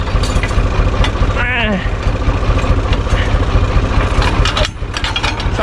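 A UTB 445 tractor engine idles close by with a loud, steady rhythmic chugging, while people talk over it and a brief whine rises in the middle.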